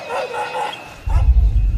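An airport drug-detection dog gives a short burst of loud, close barks after a moment of indistinct background voices.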